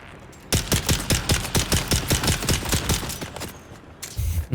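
Rapid gunfire from Dune Awakening rattles off in a steady burst of about fifteen evenly spaced shots, loud and close, stopping abruptly near the end before a low rumble.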